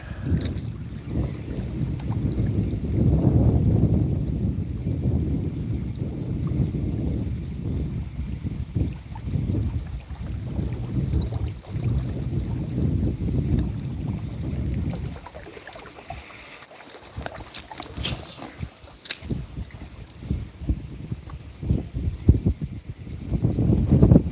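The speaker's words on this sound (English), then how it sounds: "That wind has got a little bite to it today." Wind blows across Graham Lake in Maine while someone fishes from a boat, a steady, gusty rush buffeting the microphone, with faint water lapping and small knocks against the hull.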